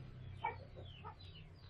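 A five-month-old Bangkok rooster clucks softly in a few short, spaced calls at close range over a steady low hum, with no talking.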